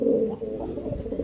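Pigeons cooing inside a breeding loft, a few close, soft, throaty coos repeating in a short burst with no voices.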